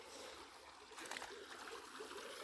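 Water running in a backyard creek, a steady broadband rush and trickle that swells slightly midway, heard alone without talk.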